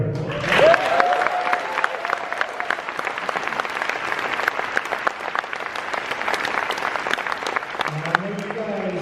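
A large horror convention panel audience claps and cheers steadily for several seconds, loud and dense, with a voice briefly audible at the start and end.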